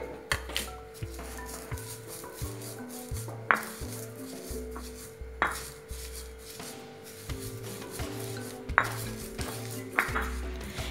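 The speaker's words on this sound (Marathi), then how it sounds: "थोडे थोडे घेऊन कुटणार आहे मी." Roasted niger seeds pounded by hand in a home kitchen for chutney, repeated dull thuds in an uneven rhythm with sharper knocks and scraping between, close and moderately loud with no talk.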